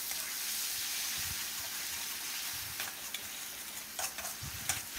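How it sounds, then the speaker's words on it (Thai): Garlic stir-fries with shrimp paste sauce in a pan, giving a constant hiss of frying with intermittent clinks and scrapes of stirring toward the end, close and moderately loud. "ให้เราใส่น้ำซอสกะปิของเราลงไปเลยครับแล้วก็ผัดให้เข้ากันนะครับ"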